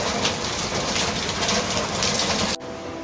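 Heavy rain pours steadily and loudly as a dense hiss for most of the span, then drops off abruptly to a quieter background near the end.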